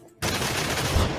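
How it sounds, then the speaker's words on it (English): A gunshot burst from a character's weapon in Marvel's Midnight Suns, a sharp onset followed by a dense, sustained crackle of close, loud gunfire. "Watch close as I shoot this guy to death."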